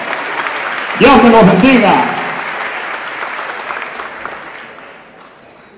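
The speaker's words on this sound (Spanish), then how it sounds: "Aplausos que se sientan fuerte." A theatre audience at a storytelling summit in Cartagena's Adolfo Mejía theatre applauds a narrator. The clapping swells briefly while someone speaks a short greeting over it, then slowly fades away.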